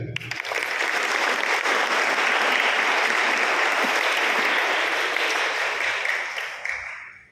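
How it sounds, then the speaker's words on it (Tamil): A Tamil Catholic congregation at a New Year mass in a Sacred Heart church gives a big round of applause, a dense, sustained wash of clapping that holds steady for several seconds before tapering off at the end. "அதுக்காக எல்லாருக்கும் ஒரு பெரிய கைத்தட்டு."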